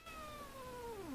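A cat gives one long, drawn-out meow that slides downward in pitch, close by and clear in a quiet room.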